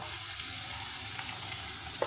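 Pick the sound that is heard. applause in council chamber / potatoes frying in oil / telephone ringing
potatoes frying in oil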